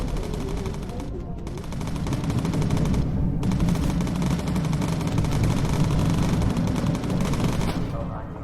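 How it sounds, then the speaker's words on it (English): Rapid, continuous machine-gun fire from bomber gunners shooting incendiary rounds in the video game Bomber Crew, a dense unbroken rattle over a steady aircraft engine drone with only brief pauses. "Focus fire with incendiary."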